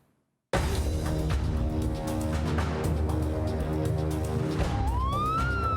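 An Edhi ambulance siren wails loudly and steadily from close by, its tone cycling repeatedly and then rising near the end, with no speech over it.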